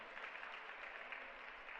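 Steady, dense applause from a church congregation, a broad even wash of many hands clapping together without pause, fairly distant and with no voices heard.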